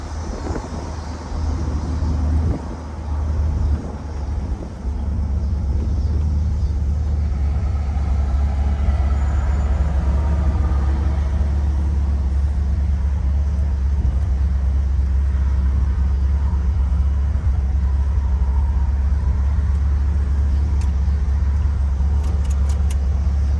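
Steady low road rumble and wind from inside a 1975 Cadillac Eldorado convertible with 90,000 miles, cruising smoothly with a continuous engine hum and a few light rattles, no speech heard.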